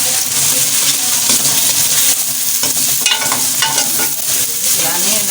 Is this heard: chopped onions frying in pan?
yes